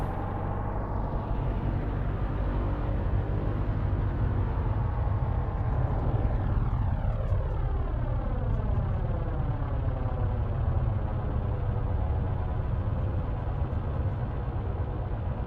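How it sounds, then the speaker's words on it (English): A P-38L aircraft's engines run steadily while taxiing in Microsoft Flight Simulator, a loud continuous propeller drone with a sweeping tonal shift as it turns, alone without talk. "Trying not to hit any smaller planes as I'm taxiing."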